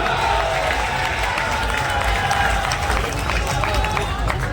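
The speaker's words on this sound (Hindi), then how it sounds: "एक बार जोरदार अपने ताली बजाइए" A large crowd at an election rally in Rewari, India, claps and cheers continuously, a dense, loud wash of applause filling the whole stretch.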